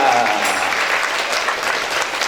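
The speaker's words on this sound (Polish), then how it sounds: "Brawa dla pani Danusi, Danuta Kołczyska" An audience claps steadily in a hall after a performance, a dense even patter of many hands that holds at a strong level throughout, with a faint voice briefly at the start.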